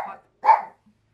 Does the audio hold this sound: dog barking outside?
yes